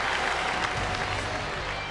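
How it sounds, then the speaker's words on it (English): A baseball crowd at a St. Louis at Pittsburgh game applauds and cheers after a first baseman makes a fielding play, a steady, dense wash of clapping. "The crowd appreciates that effort."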